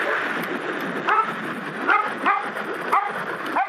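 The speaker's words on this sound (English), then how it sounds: "Big dogs. I don't remember these big dogs." Big dogs bark along a mountain bike trail, heard over steady wind and riding noise as an e-bike rolls past. Four or five short barks are spaced about a second apart at a moderate distance.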